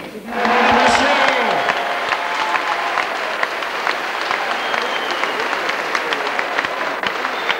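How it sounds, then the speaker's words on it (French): Sustained loud applause from a large audience greeting the Italian team at the 2001 world championship in Paris, dense steady clapping with crowd murmur throughout. "est l'occasion d'applaudir l'équipe d'Italie"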